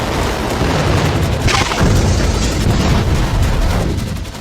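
A missile strike explosion on Netanyahu's house during Iran's attack on Israel: a loud, dense, rumbling roar that fills the whole clip, with a sharper burst swelling partway through before it keeps thundering on.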